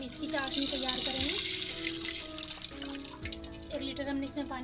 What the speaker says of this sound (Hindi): 1 लीटर हमने इसमें पानी डाल दिया